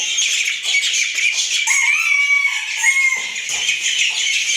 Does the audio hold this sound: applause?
no